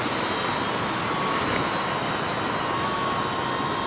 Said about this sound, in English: I can hear the drone.